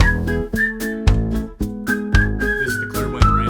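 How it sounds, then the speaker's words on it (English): A melodic whistled tune carries a music track, bright sustained whistle notes over a bouncy rhythmic backing with regular beats. "Gotta love the whistles"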